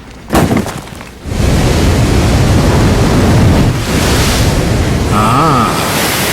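A powerful water spray from an LG TurboShot washing machine roars steadily and loudly after a brief opening burst, a broad rushing hiss that continues throughout with no voices.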